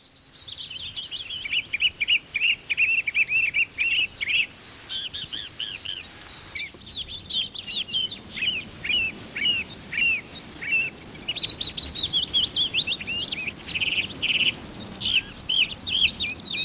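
A song thrush on a golf course in Ayrshire sings phrase after phrase of clear, repeated whistles and chirps, mimicking shorebirds such as ring plover and curlew, with a willow warbler nearby, all fairly close and without talk.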